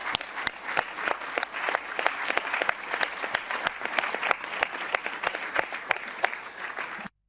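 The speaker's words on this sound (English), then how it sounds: "please give all of them a good round of applause" Audience applause at a European Economic and Social Committee plenary session: dense, steady clapping from a large hall crowd, moderately loud and sustained for about seven seconds before cutting off abruptly.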